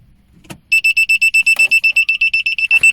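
A cheap car parking sensor warns of an obstacle behind the car with a rapid, evenly spaced series of loud, high electronic beeps, about sixteen in a row, preceded by a brief thump.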